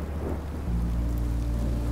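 A rainstorm with thunder in Minecraft Story Mode, dense hiss of rain over a deep, rolling low rumble that swells and holds steady, with no voices.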